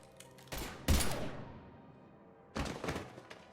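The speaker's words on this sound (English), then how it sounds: "Now open fire!" Gunfire in the video game Mass Effect 3: two loud bursts of shots, one short volley and a stronger one that rings out and decays, then after a pause another rapid burst of several close shots.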